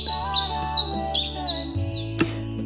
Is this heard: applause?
no